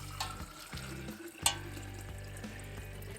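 Creek water poured from a bush pot into an empty canteen, a quiet steady trickle with small splashes and clinks, close by and with no talking.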